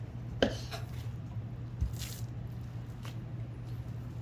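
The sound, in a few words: knife slicing beef brisket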